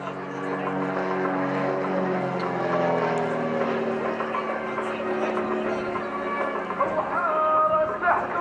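An Extra EA300 aerobatic propeller plane of the Royal Jordanian Falcons flies at an airshow at Fairford, its engine drone steady and fairly distant, rising and falling slightly.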